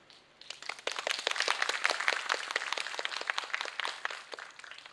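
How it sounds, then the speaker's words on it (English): Audience at a Macao English poetry writing and recital contest applauding judges and contestants, a quiet start swelling into steady, dense clapping from many hands that tapers off near the end. "Let us give our judges and our contestants a round of applause for their hard work"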